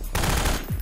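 Rapid gunfire from the Half-Life 2 mod DayHard, a short dense burst of shots that fills the clip loudly and up close, with no talk over it.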